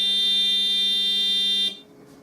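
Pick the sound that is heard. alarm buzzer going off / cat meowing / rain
alarm buzzer going off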